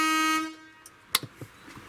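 Air horn fitted to an OKA 009 vehicle gives one loud, sustained harmonic blast lasting about half a second, then cuts off, leaving a few faint knocks and clicks.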